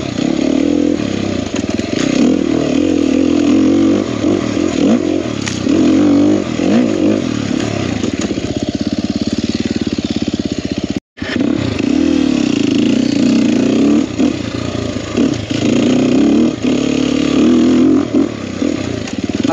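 A Sherco 300SE two-stroke dirt bike rides mountain single track, its engine loud and close with constant revving and rattling, broken by a brief drop-out midway.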